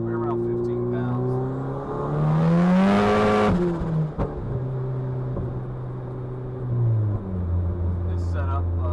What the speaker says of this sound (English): Car is running great right now, no problems, boosting.